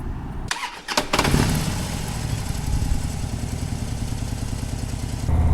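An old Harley-Davidson motorcycle engine cranks and catches after a brief starter whir, then settles into a steady, loud, close idle rumble, with a slight rise in revs at the end; no talking.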